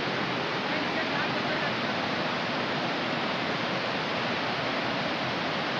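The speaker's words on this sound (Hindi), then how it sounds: "कैसे जलप्रपात हो रहा है" A monsoon-swollen waterfall in Chhattisgarh roars as a steady, dense wash of broadband rushing water, even and unbroken throughout.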